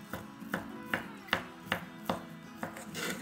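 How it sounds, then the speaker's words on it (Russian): A knife chops crab sticks into large pieces on a board, eight crisp, evenly spaced cuts close by with a short pause near the end, quiet and without talk. "Крабовые палочки нарезаю довольно крупными кусочками."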